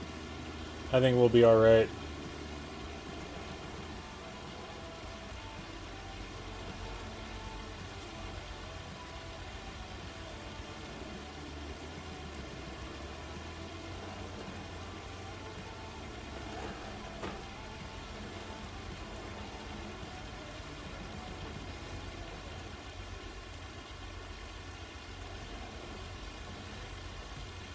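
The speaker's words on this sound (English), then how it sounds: "Oh, it's hailing!" Hail falling in Farming Simulator 25, a steady faint patter of ice pellets on surfaces continuing throughout, with a brief voice early and a low engine hum underneath.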